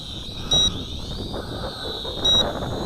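Two short, high electronic beeps from an FQ777 918C camera drone controller sound about two seconds apart, switching into headless mode, over a steady whirring motor hum and wind noise.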